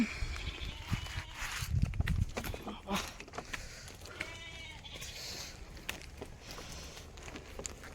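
Sheep bleat intermittently in a forest, with a goat nearby, hooves clopping and a voice speaking at times, all fairly faint and outdoors.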